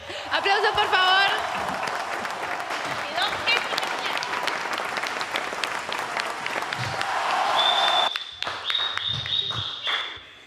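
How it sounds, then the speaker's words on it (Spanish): Studio audience applause, dense clapping with some laughter and whistles that swells and then cuts off sharply near the end, leaving a few scattered sounds and voices. "Aplausos, por favor."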